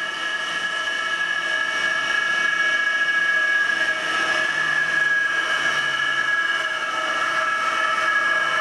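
An electric motor driven by a Powtran variable frequency drive gives a steady, close electrical whine of layered pitched tones as it changes speed, with a faint low hum beneath and no talking.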